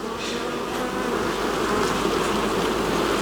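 A captured swarm of honeybees in their hive, a thick, continuous buzz close up that swells slightly and stays loud throughout, with no voices.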